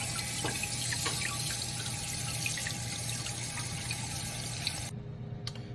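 Water from a newly installed supply line refills a rebuilt toilet tank, a steady close hiss and rush of flowing water that runs on alone without talk, then drops away sharply near the end.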